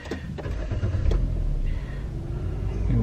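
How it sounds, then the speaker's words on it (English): A Nissan Juke 1.6 with CVT automatic starts from its push button, a low engine rumble that catches and settles into a steady, fairly close idle that swells slightly, with no one speaking. "if I put my foot on the brake and push the start button,"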